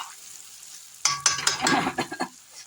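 Spices with turmeric frying in a pan on a gas flame, stirred with a utensil: after a quiet start, a sizzle rises with several scraping, clattering stir strokes in uneven rhythm, close and moderately loud.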